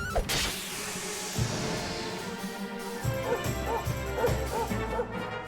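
Dog barking in Dragon Quest XI S: several short yips and barks repeat through the second half over game music and effects.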